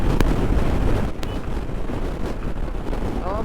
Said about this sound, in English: the wind blast is insane, bro